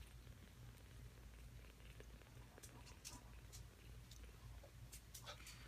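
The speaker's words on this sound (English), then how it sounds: "they're purring like mad." Kittens purr in a low, continuous rumble, faint but close, with scattered small scratching and rustling noises over the top.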